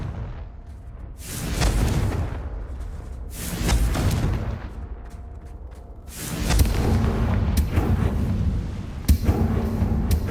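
Fiery Confringo spell blasts in the Hogwarts Legacy video game, a series of loud booming explosions about every two seconds, each a sharp burst with a rumbling tail over a steady low game backdrop.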